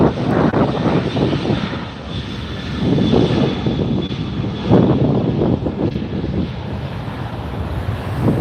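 A Southwest Airlines jet roars past the runway at LAX with a loud, sustained engine rush mixed with wind noise that holds steady throughout.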